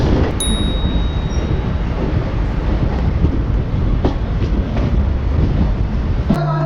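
A train rumbles close by at Bantwal railway station in a loud, continuous roar, with a brief high squeal at the start and a metallic clank near the end.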